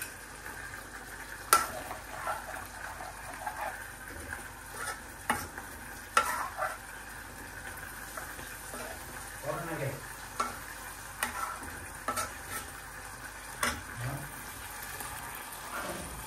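Curry being reheated in a pan at home in the evening, with a soft continuous sizzle and intermittent scraping stirs and light utensil taps against the pan, fairly quiet and close.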